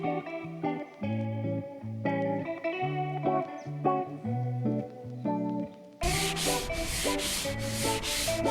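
Fairing compound on a sailboat hull being sanded by hand: rhythmic, rasping back-and-forth strokes that arrive late, layered over ongoing background music that plays alone before them.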